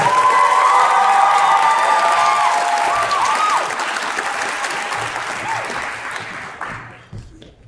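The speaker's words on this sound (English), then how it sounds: "one more round of applause for this wonderful eighth grade chorus" A crowd applauds loudly for an eighth grade chorus concert with a few cheers and whoops, the clapping sustained before gradually dying down near the end.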